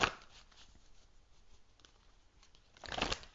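Oracle cards are shuffled by hand, a close papery riffle opening and closing a short stretch of soft rustling and handling, the final burst louder and crisper.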